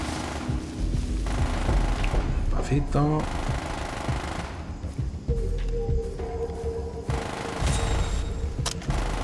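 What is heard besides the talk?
gunshots fired into the air in Far Cry 3 video game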